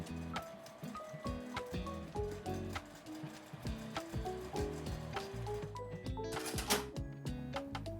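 A sewing machine backstitching two or three times across the opening of a handkerchief pouch made from Seria mesh fabric, a quick rhythmic clatter of stitches, close and fairly soft.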